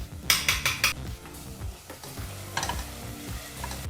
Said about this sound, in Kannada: ಈ ರೀತಿಯಾಗಿ ಮಸಾಲ ಪೇಸ್ಟನ್ನು ಫ್ರೈ ಮಾಡಿದ ನಂತರ